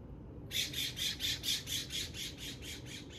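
A bird squawks in a rapid series of harsh, evenly spaced calls, about a dozen in a row, sounding nearby against quiet background noise.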